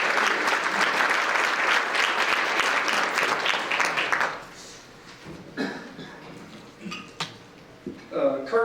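A banquet audience at a college baseball leadoff dinner claps loudly and steadily for about four seconds, then the applause fades into scattered claps, dish clatter and speech.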